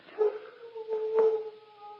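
A single dog gives a drawn-out, wavering howl lasting about two seconds, close and fairly clear, with no talking over it.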